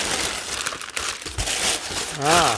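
Paper packing crinkles and rustles loudly at the top of a box being unpacked, with continuous crumpling and a brief voice near the end.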